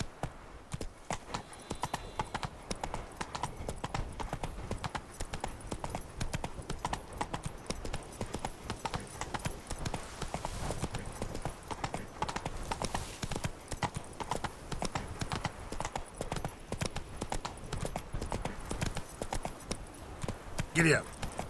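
Roach the horse gallops in The Witcher 3, a fast, continuous drum of hoofbeats running close and loud throughout, with a voice calling out over the gallop.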